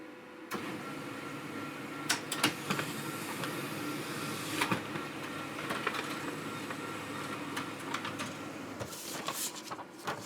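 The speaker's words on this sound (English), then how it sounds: "After turning on the printer, we ask it to print a page." A steady mechanical whir runs throughout with intermittent clicks and clunks as an HP LaserJet 1320n laser printer feeds and prints a page, moderately quiet and close.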